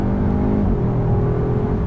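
A 2022 Audi S3's engine and exhaust drone under partial throttle, a dense, steady low growl with a slight pitch shift midway, close and fairly loud, with no voices over it.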